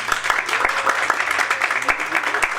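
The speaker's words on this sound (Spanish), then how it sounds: "me gustaría que le diéramos un aplauso nuevamente." An audience at a public forum claps, a lively patter of many hands with a few sharper close claps standing out, fairly loud and continuous.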